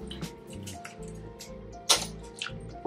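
Cut potatoes being washed in water, with soft splashes, drips and squishy sloshing close by, plus one sharper splash near the end.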